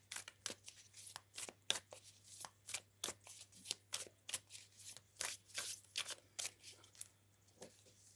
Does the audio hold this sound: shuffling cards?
yes